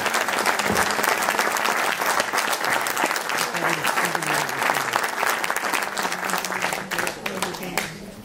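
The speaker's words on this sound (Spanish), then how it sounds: "un forte aplauso para un gran músico" At a musical tribute event in Galicia, an audience gives a loud, sustained ovation for a musician, dense clapping from a large crowd running throughout, with voices murmuring underneath.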